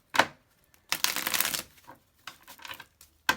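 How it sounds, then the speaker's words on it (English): Tarot cards are shuffled by hand during a tarot reading, giving several short crisp bursts and one longer riffle. The sound is quiet and close, with no talking. "Let me actually shuffle these cards real quick from the last reading."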